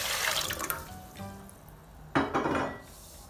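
Water runs from a tap into a cooking pot, half a litre for making chicken broth in a home kitchen: a steady hiss of filling that pauses and then surges louder near the end, with no talking.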